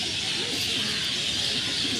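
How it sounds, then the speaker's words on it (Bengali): A doubaj jiriya pigeon coos softly and steadily beneath a constant broadband hiss of background noise, with no voices present. "এই একটা দোবাজ জিরিয়া পায়রা"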